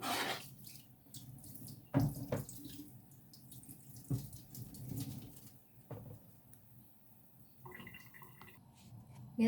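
Tap water runs over a used kitchen utensil being rinsed at a sink while sinigang is prepared, with a steady splash broken by a few louder clanks and knocks, and bird cooing in the background.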